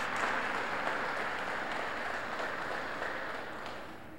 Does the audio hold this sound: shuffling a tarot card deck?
no